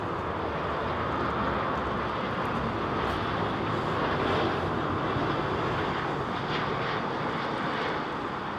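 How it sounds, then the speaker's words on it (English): Boeing 787 Dreamliner moving at London Heathrow Airport, a steady broadband engine roar holding constant throughout, moderately distant, with no voices. "So gracious, the Dreamliner"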